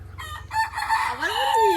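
A chicken sounds off close by, with a drawn-out, rising and falling clucking call over a low background hum.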